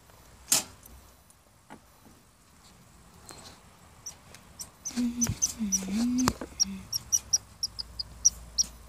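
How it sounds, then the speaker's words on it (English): A chipmunk gives a series of short, high, sharp chirps that come faster and cluster toward the end, heard up close over quiet room sound with a few soft knocks. "It's like chirping."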